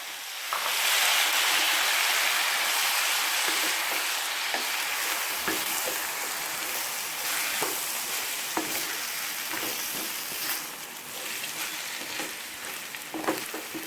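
Steady, close sizzling of jackfruit pieces frying in a hot pan for Kerala-style biryani, a dense hiss with occasional stirring clinks, fading slightly toward the end.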